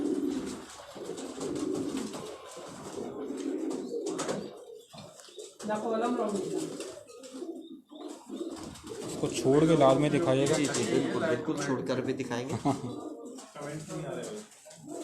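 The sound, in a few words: pigeons cooing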